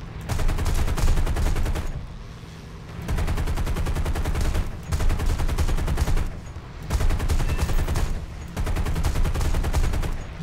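Bursts of 37mm cannon fire from a fighter aircraft in the War Thunder combat game, rapid thudding shots in several sustained volleys separated by short pauses.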